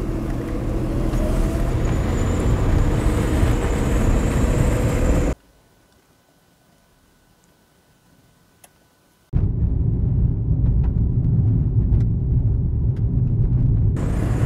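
A car drives along a rural Karoo road toward Merweville, its steady engine and road rumble filling the cabin, cutting to near silence for a few seconds before the continuous driving noise returns.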